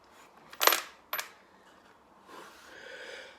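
Loose metal screws being rummaged through in a Cosworth engine project: two sharp metallic jingles close together, then quieter scraping and shuffling of small metal parts, close and clear with no speech.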